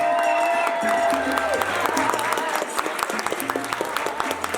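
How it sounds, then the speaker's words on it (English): Guests at a wedding reception give the newlyweds a warm round of applause, a full, steady clatter of many hands with some cheering, over background music that carries on throughout. "Ladies and gentlemen, for our newlyweds, let's give them a nice round of applause."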